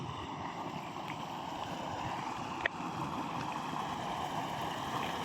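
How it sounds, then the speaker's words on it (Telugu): Floodwater drains away through a pipe near the Amaravati towers after three days of rain, a steady, close rushing wash of water broken by one soft click midway. "నీళ్ళన్నీ పోతున్నాయి చూడు"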